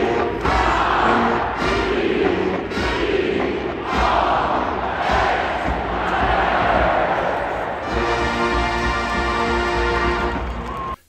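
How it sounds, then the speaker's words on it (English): At an LSU football game, the marching band plays as the stadium crowd roars and shouts in bursts through the drum break. Loud, dense stadium noise continues throughout, and the band's brassy tones swell clearly near the end. "There's even a drum break where the band and crowd shout out."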